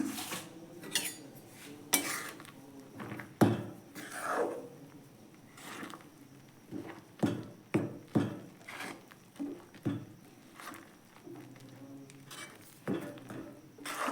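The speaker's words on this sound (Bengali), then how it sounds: "এভাবে আমি নাড়তে থাকবো" Rice flour dough being stirred and mixed in a pot for rice flour flatbread, heard as irregular scraping and knocking of a utensil against the pot, moderately close, with short clattering bursts and no voices.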